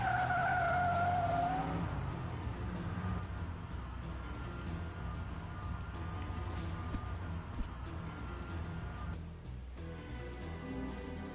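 A hotwired military vehicle in the Front Mission 3 video game opens with a loud, high tire squeal as it skids, then settles into a steady engine rumble with scattered clunks. No one talks.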